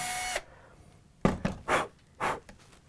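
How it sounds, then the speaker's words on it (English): A brief high power-drill whine cuts off, followed after a pause by several short, scratchy bursts of drilling a pilot hole into a Fender guitar body, close by. "I'm going to make a pilot hole right in the center of this here."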